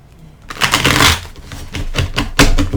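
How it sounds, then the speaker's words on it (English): A deck of tarot cards is shuffled close up, crisp riffling bursts and flicks repeating in quick uneven clusters. "So I shuffle these cards."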